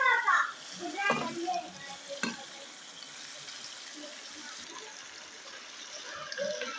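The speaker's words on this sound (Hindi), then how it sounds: "अब मैं प्याज डालूँगी।" Onions hit a hot pan of spiced chicken for dahi chicken, starting with a loud burst of sizzling and stirring clatter that settles into a softer, steady frying hiss with occasional scrapes.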